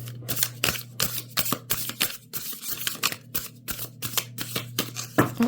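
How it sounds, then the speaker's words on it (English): A tarot card deck being shuffled close by: a quick series of crisp, papery riffling bursts in an uneven rhythm over a steady low electrical hum. "I do 1 or 2 more shuffles here"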